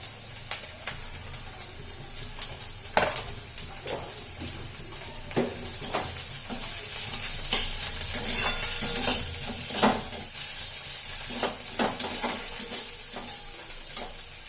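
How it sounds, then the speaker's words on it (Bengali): Egg and pasta are stirred and fried in a pan, with a steady soft sizzle under repeated sharp scrapes and clicks of a utensil against the pan, close and fairly quiet. "ডিমটা দেওয়ার পরে ভালো করে নেড়ে নিতে হবে, পুরো ভুজিয়ার মতো যাতে হয়ে যায়।"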